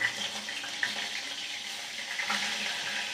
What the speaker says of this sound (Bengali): গোটা গোটা পটলগুলোকে ভেজে নিচ্ছি